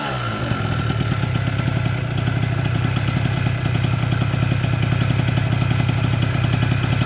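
An MBK Booster scooter engine with a standard crankshaft starts and settles into a steady, buzzing two-stroke idle, loud and close, running continuously without pause.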